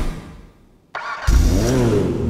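A Karen 190Z, a rear-wheel-drive car, has its engine started and revved in a game, with a sharp catch into a loud, steady mid-pitched rev that holds close and alone.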